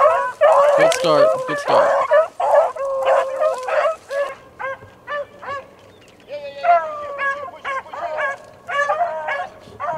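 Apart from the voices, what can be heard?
hunting dogs baying while chasing a rabbit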